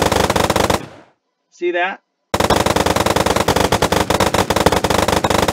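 Rapid rifle fire from a Minecraft gun mod rattles loudly in a dense burst, stops for a short pause with a brief spoken remark, then resumes as another long, fast volley of shots.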